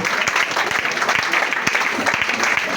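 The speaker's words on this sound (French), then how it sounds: "Acclame pour la chose de la foi pendant que tu pries." A church congregation applauds during a worship service, a dense, steady wash of clapping that runs continuously at full volume, with a few louder individual claps standing out and a faint voice in the background.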